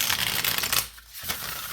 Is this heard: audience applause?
no